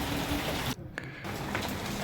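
Light outdoor drizzle hisses steadily as a soft, even wash of raindrops, briefly dropping away for a moment before resuming at the same gentle level, with no voices.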